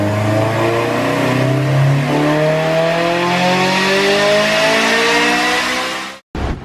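A supercharged Honda S2000 accelerates hard through the gears, its engine rising in pitch with a clear gear change and a loud, close, continuous wail before cutting off sharply at the end.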